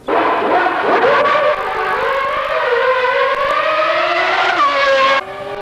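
Senna's new 1991 racing car laps the circuit at speed, a loud high-pitched engine wail rising through the revs, dipping at a shift and climbing again before cutting off, close and alone.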